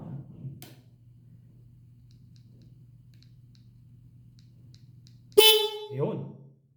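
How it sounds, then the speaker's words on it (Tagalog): A steady engine hum runs underneath, then one loud stock car horn honk blares through a newly installed relay, followed by a short second toot. "busina tayo."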